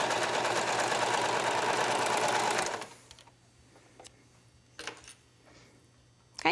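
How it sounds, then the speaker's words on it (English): A sewing machine stitches a shoulder seam on a tank top, a fast, even motor buzz for under three seconds before stopping, followed by quiet hum and a few small handling clicks. "All right, so now we're going to stitch the shoulder seam."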